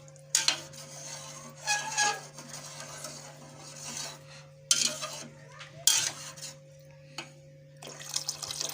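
Egg biryani ingredients stirred in a metal pot, with a spoon scraping and clinking against the sides in irregular bursts, wet rustling between, close and moderately loud over a steady low kitchen hum.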